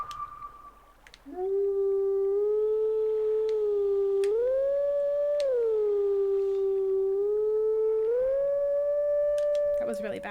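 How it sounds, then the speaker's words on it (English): A wolf howling in the video game Zelda: Twilight Princess, one long clear tonal howl that rises and falls in pitch for several seconds, loud and close. "I think it's this one because it's still howling."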